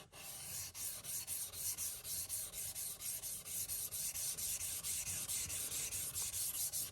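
Light, even strokes of an oboe reed knife across a sharpening stone repeat in a quick steady rhythm, a soft close scraping rasp at a low level with no voices.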